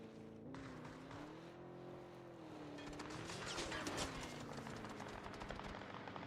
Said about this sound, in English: The self-driving car, careful!